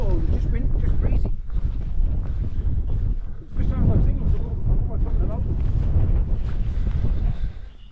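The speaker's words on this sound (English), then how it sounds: "Oh, just breezy." Strong wind buffets the microphone on a Lake District fell path, a loud, continuous low roar with gusty surges and a short lull, heard alone and very close.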